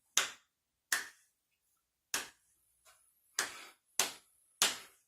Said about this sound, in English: first we're going to clap and count the rhythm